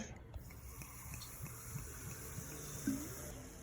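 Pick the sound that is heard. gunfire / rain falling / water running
water running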